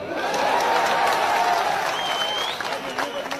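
Crowd applause at a political speech, a loud, sustained wash of clapping and cheering from a large outdoor audience, with voices rising through it.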